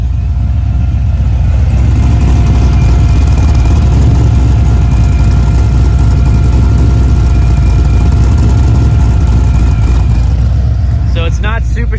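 Procharged LS3 V8 in an old truck idling through dual MagnaFlow mufflers, a loud, steady low rumble held close and constant, with a person talking over it.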